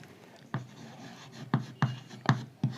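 Chalk or marker writing on a classroom board during a physics lesson, a handful of short sharp taps and scrapes in an irregular rhythm, close and clear.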